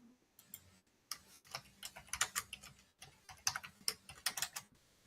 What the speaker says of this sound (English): I hear your keyboard